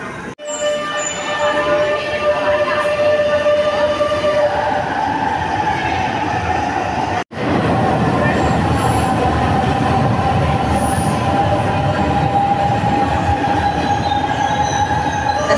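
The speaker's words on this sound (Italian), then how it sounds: "faccio delle riprese ad altri treni che arrivano nella stazione" Milan metro trains pull into an underground station, a steady loud rumble of wheels on rails with a sustained high squeal and hum, continuing for the whole stretch with a brief cut midway.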